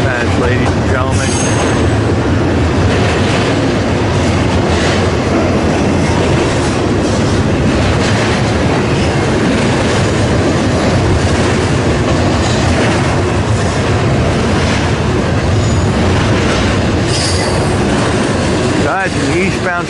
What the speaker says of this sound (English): stack train here in Elkhart, Indiana